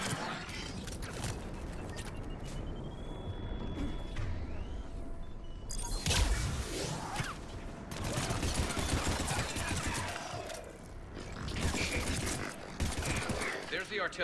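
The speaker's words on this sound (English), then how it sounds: "There's the artillery." Artillery fire in Mass Effect 3 on a battlefield: repeated heavy booms and crackling gunfire over a rumbling backdrop, with a louder surge midway, mixed with voices talking.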